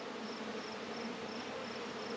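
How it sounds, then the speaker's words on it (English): Honeybees buzz steadily around a swarmy nuc hive, a close, even drone with no pauses and no voices. "now I see bees in the top and I see bees down here"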